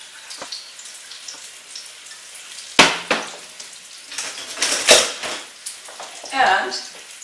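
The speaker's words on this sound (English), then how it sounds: "to that I'm going to add 2 cups of cranberry juice" Cranberry juice poured into a hot pan on the stove, with sizzling and bursts of frying crackle that swell and fade over several seconds, and a voice speaking in between.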